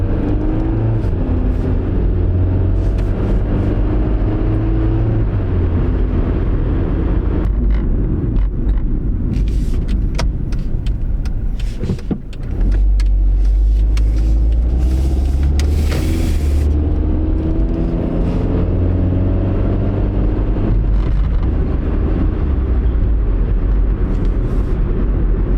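A Hyundai Accent's engine runs steadily and loudly, with a strong low rumble that holds throughout, a brief dip near the middle, and no voices.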